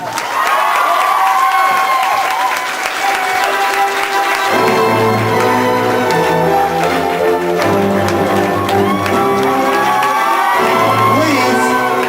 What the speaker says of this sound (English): Please give a big round of applause for Dr. and Mrs. Glenn